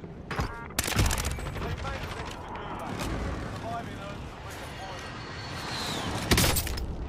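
Explosions from an airstrike in the video game Warzone: loud, booming blasts at the start and again near the end, separated by rumbling, crackling debris, while people talk.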